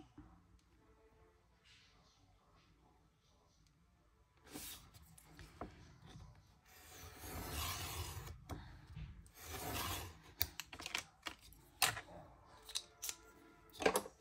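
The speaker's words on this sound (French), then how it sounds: "Que je vais venir du coup couper en deux" Scissors snipping through paper for a scrapbooking fan card, a few rasping cuts in a quiet room, growing louder with sharp short snips toward the end.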